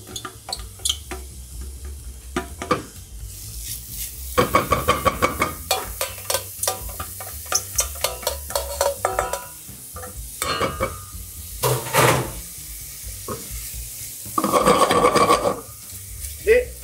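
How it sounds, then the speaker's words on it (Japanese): Finely chopped onions sautéing over low heat in melted butter in a pan, a steady sizzle broken by repeated scraping stirs and clatters of the utensil against the pan, close and fairly loud. "はい、じっくりこう玉ねぎ炒めていきます。"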